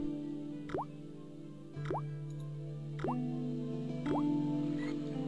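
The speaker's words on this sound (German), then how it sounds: "Der Wasserhahn knarrt, hustet und spuckt einen Strom von rostfarbenem Wasser aus." Rusty faucet in the point-and-click adventure game Baphomets Fluch, four separate creaking squeaks with a rising pitch, each followed by a short spitting plop of water, spaced about a second apart over a low steady background hum.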